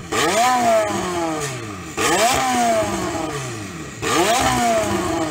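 A tuned McLaren 720S engine revving hard three times in succession, each loud rising howl climbing sharply then falling away, close and dominant with no talk.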